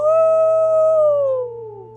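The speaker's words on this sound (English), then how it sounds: "Above the howl of the wind, you suddenly become aware of another sound, the howling of wolves" A wolf's long tonal howl in a video game, loud and near, holding one pitch and then sliding down as it fades, with no talk.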